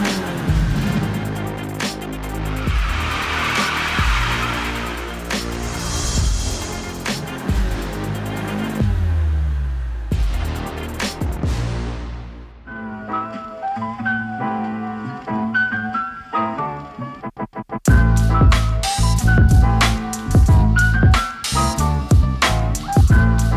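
A turbocharged car pulls away and accelerates, its engine droning and rising through several pitch climbs under loud music that then breaks into choppy, rhythmic bursts.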